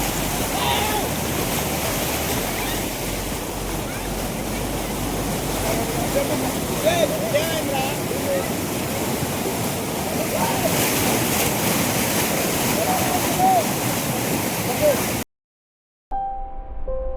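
Fast-flowing water pours down a waterfall near Maredumilli in a dense, continuous roar, with wind buffeting the microphone and a voice faintly audible under the noise before a brief cut near the end.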